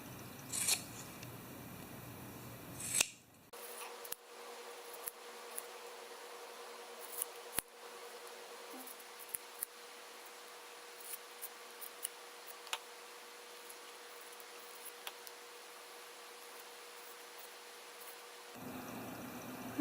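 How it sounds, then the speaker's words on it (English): Scissors snipping a strip from the top of a fuzzy black sock, a quiet series of small ticking cuts spread over a near-silent stretch, with no talking. "I just cut off a strip from the top of a black sock"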